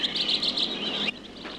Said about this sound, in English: always within the sound of leaping water and the song of countless